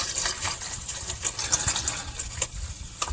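Water gushing and spattering out of the motor of a 1978 Ford F100 that has sat uncovered, a steady close splashing stream with no talk over it.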